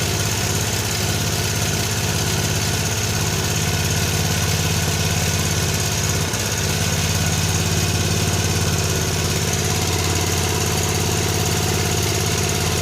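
A vintage 1960s Honda E300 portable generator runs steadily on a slick bench, its engine drone mixed with a constant rattling vibration against the bench top, loud and unbroken with no talk.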